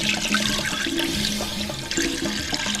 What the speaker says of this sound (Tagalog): Siyempre lalagyan natin ng tubig yan.